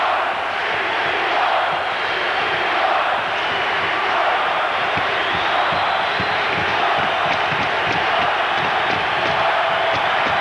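A packed hockey arena crowd roars and cheers during a 1995-96 NHL regular-season game between the Chicago Blackhawks and the Detroit Red Wings, a loud, sustained wall of cheering and shouting that never lets up.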